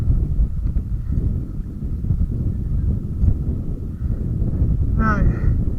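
Wind blows across the River Clyde during sea kayaking, a steady broadband rush of microphone buffeting, with faint paddle splashes and a brief chirpy sound near the end.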